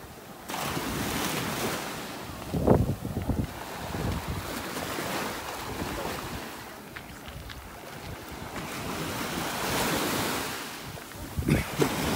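Waves washing onto a beach in North Naples, Florida, a soft continuous surf wash with gusty wind rumbling against the microphone and a few nearby thumps, no talking.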